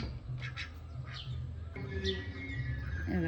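Sparrows and other small birds chirp in short, high bursts, with a soft hum and low background noise running underneath throughout.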